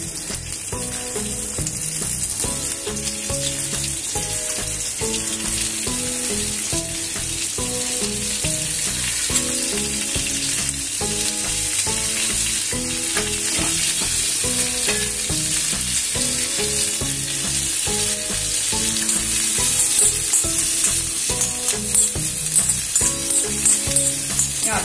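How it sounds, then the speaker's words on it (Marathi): Onions sizzle in hot oil as they are sautéed for a chickpea masala, a loud, continuous frying hiss with rhythmic stirring scrapes throughout and no voices. "आधी थोडंसं तेल टाकलं होतं, त्यातच आपण परतणार आहोत"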